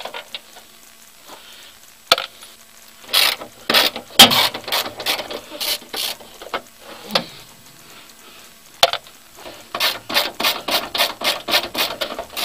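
Ratchet wrench clicking as 10 mm bolts come off the top cover of a Mahindra 1526 HST tractor, bursts of sharp rapid clicks separated by pauses, ending in a quick steady run of ratcheting strokes, close up.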